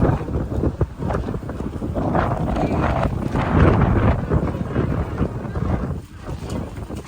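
Strong wind buffets the microphone in loud, uneven gusts outdoors in Tokyo in January, a rough roaring rumble with no speech.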